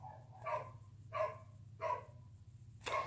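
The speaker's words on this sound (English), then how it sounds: "Sorry about the barking." A dog barks indoors in the background, three evenly spaced single barks followed by the start of a fourth, faint to moderate over a low household hum.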